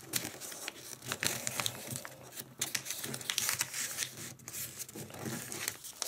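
Paper crinkles and rustles continuously up close as a large double-sided origami ninja star (shuriken) is folded, with faint soft crumpling and creasing and no speech.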